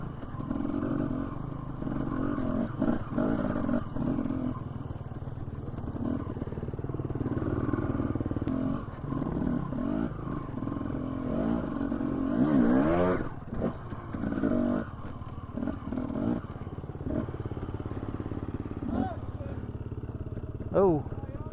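A dirt bike rides a winter trail at Fossil Creek, Idaho, with the engine droning and revving under wind noise and occasional clatter. Voices talk over much of it.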